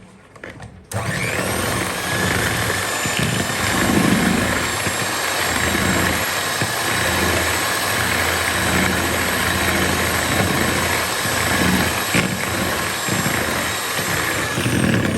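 An electric mixer beats sugar for an eggless chocolate cake, a close, continuous motor drone with a gritty whir that starts abruptly and holds steady throughout.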